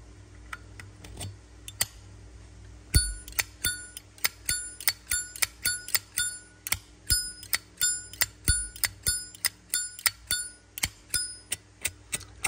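An original, unrepaired vintage Zippo lighter has its lid flicked open and shut again and again, each flick giving a bright metallic click with a ringing chime. The clicks come in a steady quick rhythm, close and clear, with no talking.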